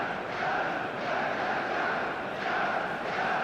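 Stadium crowd roar from an eFootball 2025 match, a steady dense wash of massed voices that holds level throughout, with no clear peaks.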